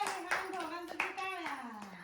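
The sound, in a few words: people clapping for the children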